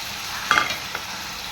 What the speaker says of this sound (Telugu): నూనె ఆయిల్ వేడెక్కింది కదా అని పచ్చిమిరకాయలు వేస్తున్నాను